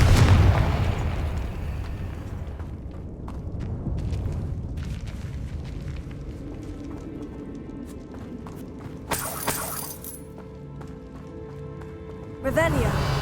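Hogwarts Legacy game audio carries a booming Confringo blast that opens loud and rumbles away, followed by softer rattles and effects, with a voice speaking over the action.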